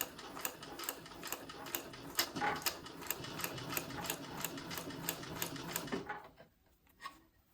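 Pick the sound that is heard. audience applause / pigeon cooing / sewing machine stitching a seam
sewing machine stitching a seam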